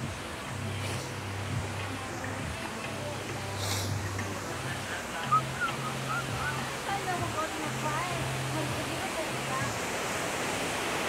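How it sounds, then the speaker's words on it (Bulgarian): Artificial surf wave pool at the Aquaventure water park, a continuous rushing roar of churning water under a low droning hum, with people talking in the background. "Тук мога да карате изкуствено сърф."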